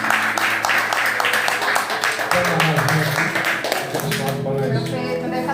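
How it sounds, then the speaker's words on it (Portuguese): A church congregation claps together, a thick, steady wash of hands sustained over a low musical backing throughout. "Uma salva de palmas."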